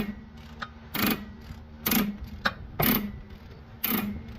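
A wrench working a rusted 12 mm bolt on the steering spindle of a 2010 Subaru Forester, heard as four or five sharp metallic ratcheting bursts spaced about a second apart with faint ticks between, close and clear with no speech.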